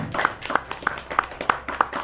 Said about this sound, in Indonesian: Tepuk tangan dulu Pak untuk Bawean.